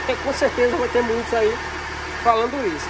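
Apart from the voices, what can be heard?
car engine idling with worn accessory belt tensioner bearing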